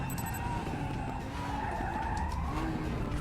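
BMW race car engine screaming in the RaceRoom video game, a loud strained high-revving whine with rising and falling pitch and some tire scrub, continuous throughout.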